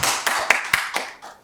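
Applause from an audience at a Korean university dance mentoring event as a mentor is introduced, a burst of clapping with several sharp peaks that trails off over about a second and a half.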